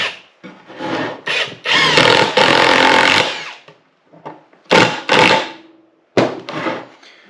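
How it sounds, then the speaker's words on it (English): Melif impact driver sinking framing screws into wood for an indoor firewood box, with several loud bursts of rattling, whirring driving, each lasting about a second and separated by short pauses. "Melif impact driver, and it seems to be working pretty good."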